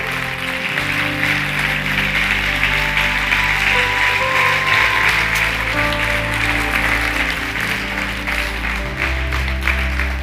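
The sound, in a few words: church congregation applauding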